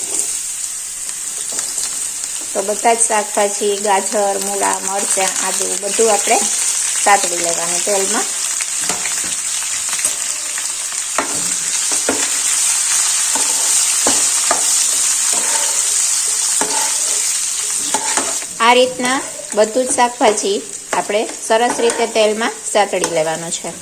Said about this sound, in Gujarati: તેલ ગરમ થઈ ગયું છે હિંગ એડ કરીશું અને સમારેલા બધા જ શાકભાજી આપણે તેમાં સાતળી લેવાના છે